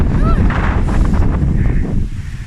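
Strong wind buffets the microphone on a trail, a loud, continuous low roar with gusty surges throughout and faint fragments of a voice mixed in.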